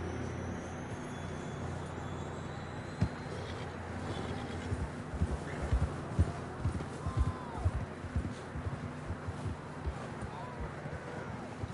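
Horse hooves gallop in Red Dead Redemption 2, soft, irregular thuds under a low rumbling game ambience, getting somewhat more distinct partway through.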